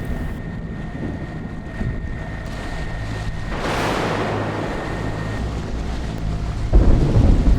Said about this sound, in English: we were completely surrounded by the thunderstorm